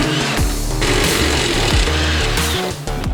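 Impact wrench loosening exhaust bolts on a 2015–2021 Subaru WRX during an axle-back exhaust install, a loud, close, continuous hammering rattle with brief pitch shifts as the bolts break free.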